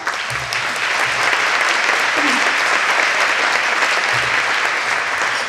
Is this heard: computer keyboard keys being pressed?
no